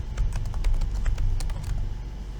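Quick irregular clicks of fingers typing on a computer keyboard, close and fairly soft, with uneven rhythm over a low background hum and no voices.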